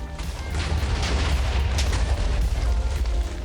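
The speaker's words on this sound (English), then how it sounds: "Run and just watch it explode." A big TNT blast in Minecraft, a sustained heavy rumbling boom with crackling debris that rolls on at steady loudness for several seconds without any voices.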